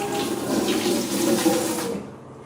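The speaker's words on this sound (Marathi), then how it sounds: "आता आपण हा डब्बा स्वच्छ करून घेऊया धुवून घेऊया" Tap water runs steadily over a blackened aluminium tin being washed, a continuous splashing hiss that stops abruptly near the end.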